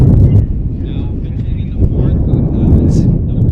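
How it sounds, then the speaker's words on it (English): A strong wind gust buffets the microphone at an outdoor high school baseball game, giving a loud, steady low rumble across the whole stretch with no speech over it. "As a massive wind gust hits right now"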